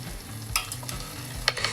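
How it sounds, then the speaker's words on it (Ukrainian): Flax-buckwheat pancakes fry over low heat in a pan, giving a steady soft sizzle with a few light clicks of utensils, close and without talk. "Млинці готуються на маленькому вогні."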